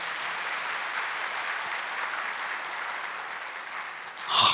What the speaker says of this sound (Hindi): ताली बजाओ जरा अच्छी तरह से।